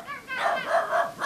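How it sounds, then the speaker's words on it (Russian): A dog barks in several quick yapping bursts, close and fairly loud, with no talking over it. "Но я попробую сквозь собачий лай продолжить разговор."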